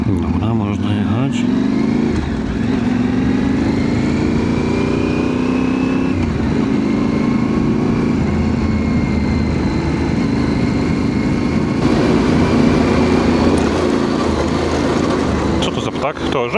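A Yamaha Tenere Extreme motorcycle rides off-road on a trail in Poland, its engine droning loud and close with shifting revs and a gear change midway, wind noise throughout.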